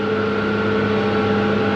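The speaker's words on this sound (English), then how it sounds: "It's a Peterbilt semi" A Peterbilt semi truck engine running at a steady idle on a farm during barley chopping, a continuous loud droning hum with an even mechanical tone and no voices.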